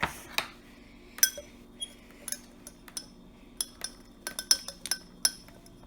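A washing-up liquid mixture is stirred in a glass, producing a string of bright, close clinks at an uneven pace, about fifteen in six seconds, over quiet background hum.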